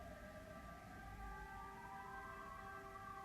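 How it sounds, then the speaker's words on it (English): An ambulance siren wailing faintly in the distance, its steady rising and falling tones sustained over a low background hum. "The ambulance is not going away."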